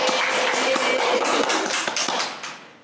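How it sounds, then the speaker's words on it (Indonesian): Audience applause for a teacher, Mas Doni, on an Indonesian after-school comedy show: dense, steady clapping at close range with sharp individual claps, fading out over the last half second. "Tepuk tangan dong buat Mas Doni."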